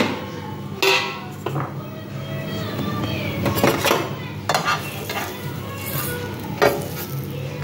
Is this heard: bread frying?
yes